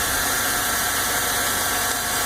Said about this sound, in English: Now this one is a Lexus IS300 engine. It's 2JZ-GE, an inline 6-cylinder engine.